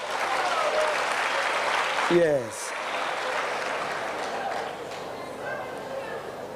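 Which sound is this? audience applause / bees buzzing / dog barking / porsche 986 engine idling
audience applause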